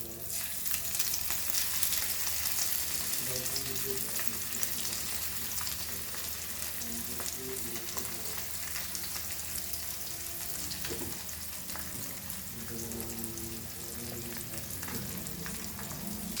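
Flat-headed butter fish frying slowly in hot oil, giving a faint, steady sizzle with occasional soft crackles throughout, heard alone and at a distance.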